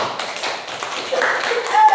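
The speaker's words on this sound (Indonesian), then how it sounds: "tepuk tangan dulu untuk kelompok 1" A classroom group claps for the first student group after their presentation, a brief patter of hand taps mixed with a teacher's voice talking.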